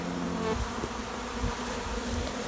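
Honey bees buzz in a steady, dense drone at a hive entrance as they march back in from a shaker box, close and continuous throughout.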